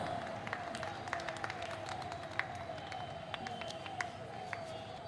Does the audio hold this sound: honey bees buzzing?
no